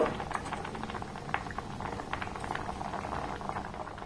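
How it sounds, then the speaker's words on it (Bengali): Rice dumplings (milk pithas) simmering in milk in a pot give a steady, close bubbling boil with soft popping and patter that continues without a break and without any talk. "এবার এই পিঠেগুলোকে আমি একটু ফুটিয়ে নেব"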